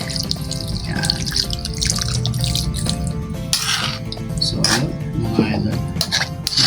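Water pouring into a cooking pot of chicken feet, a continuous splashing and trickling stream with liquid bubbling and dripping, heard close up under a voice talking.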